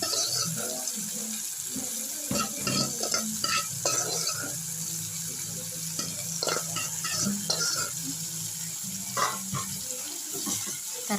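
Steamed bitter gourd curry with curry leaves is stirred in a pan, giving repeated scraping and clattering strokes over a steady hiss of sizzling, close and fairly loud, with no voices.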